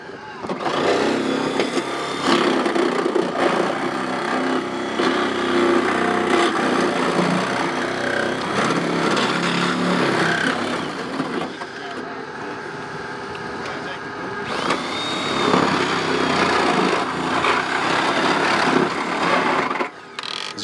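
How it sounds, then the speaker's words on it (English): A fire department crew uses a Sawzall reciprocating saw to cut through a car's C post during a mock accident demonstration. The harsh, buzzing cutting runs loud and nearly continuous, with a brief easing midway and background activity around it. "Back here on the C post, they're going to continue that cut with the sawzall."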